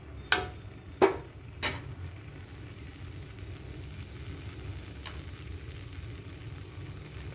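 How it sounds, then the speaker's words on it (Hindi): Dried red chillies drop into hot oil in a kadai with a few sharp clattering hits at the start, followed by a soft, steady frying sizzle close by, no talking. "मैंने कढ़ाई गरम कर लिया है, तेल गरम हो चुका है, मैं अभी सूखे मिर्च डाल देती हूँ।"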